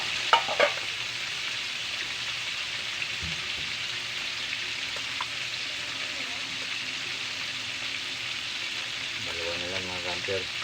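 A pan of frying fish sizzles in a continuous hiss with a few small crackles and stirring scrapes near the start, and a voice briefly speaks toward the end.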